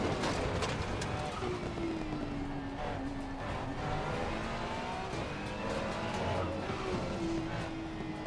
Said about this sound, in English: Oh, the downshift does sound nice.